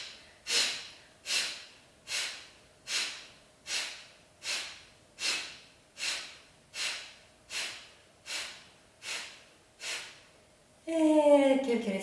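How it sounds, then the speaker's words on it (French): A yoga session of dynamic breathing: about a dozen sharp, evenly spaced nasal exhalations, close and clear, followed by a brief voice at the end. "Encore une série de respirations dynamiques, une dizaine"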